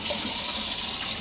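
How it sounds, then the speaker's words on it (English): A campervan water pump runs in an Adria Coral Plus 670 SLT, with water rushing steadily from the sink tap, a continuous close hiss and gush that carries on without a break. "this just shows that your water pump is working"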